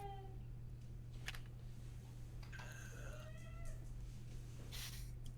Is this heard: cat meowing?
yes